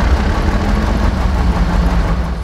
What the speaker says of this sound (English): So here we go, the engine is started